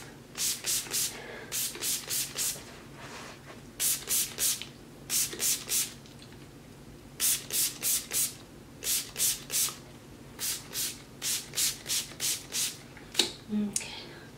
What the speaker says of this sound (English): But right now I'm just gonna spray it with water.